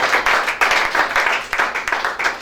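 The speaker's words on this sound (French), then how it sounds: "Acclame chacun." Congregation applauding at a French-speaking church service, a steady dense patter of many hands clapping with rhythmic surges, fairly loud and close, with no talk over it.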